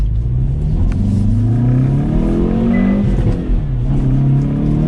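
A 2022 Hyundai Veloster N engine revs and accelerates loudly up close while merging into traffic, rising in pitch through the gears with a brief dip, steady road rumble underneath.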